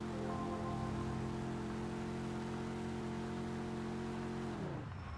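A car speeds along in the video game Mafia II, its engine holding a steady, loud, high drone under continuous road noise before the pitch drops sharply as it slows near the end.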